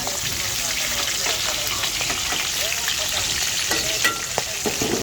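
Fish frying in oil in a pan, a steady loud crackling sizzle with scattered pops throughout, close and continuous, with no talk.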